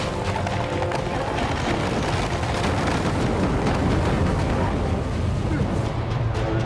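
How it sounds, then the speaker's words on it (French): Flaming sword strikes setting off lava explosions in the video game Jotun, a dense, continuous rumbling roar of blasts and crackling impacts at steady loudness throughout, with no clear gaps between hits. "J'ai une épée en feu qui, quand elle tape, a fait des explosions de lave."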